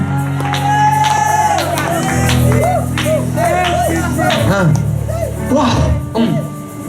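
A church congregation shouts and cheers loudly at a worship gathering, with a continuous dense crowd roar and some clapping, under a preacher's amplified voice.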